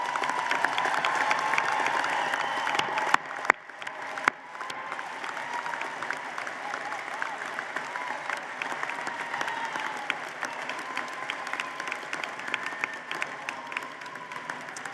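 Sustained applause from a large audience at a university commencement ceremony, a broad steady wash of clapping in a big hall that continues strongly, with faint crowd murmur mixed in.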